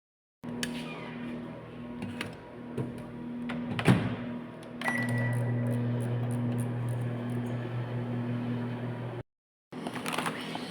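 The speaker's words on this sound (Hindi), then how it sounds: "मैं कुछ पहले तो ओवन में गर्म करूँगी फिर खाऊँगी" A microwave oven heats Korean convenience store food, giving a steady close hum for several seconds after some clicks and knocks, then cutting off before a brief final clatter.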